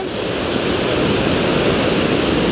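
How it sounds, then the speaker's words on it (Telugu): Steady, dense roar of Tarabu (Pittala Borra) waterfall crashing down, a loud continuous broadband rush with no pauses or voices. "పై నుంచి వాటర్ అయితే పడి కిందకు వస్తుంది"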